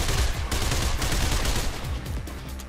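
Gunfire in the Mirror's Edge video game: a dense, continuous burst of rapid shots lasting the full stretch, loud and close, with no talk over it.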